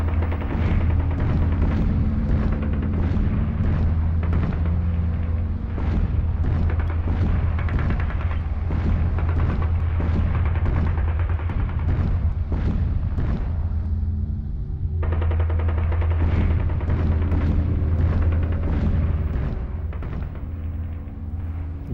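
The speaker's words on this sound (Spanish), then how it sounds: "Ya se divisan desde el Alcázar las explosiones de los cañones de los nacionales." Cannon explosions and gunfire during the Siege of the Alcázar of Toledo in the Spanish Civil War, a dense, continuous barrage of booms and rapid shots over a low rumble, loud throughout the clip with no voices.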